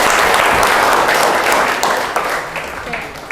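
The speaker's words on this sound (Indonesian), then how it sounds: "Tepuk tangan dulu." Students applaud in a high school classroom, a burst of close, lively clapping from many hands that starts loud and gradually fades, with a few voices among it.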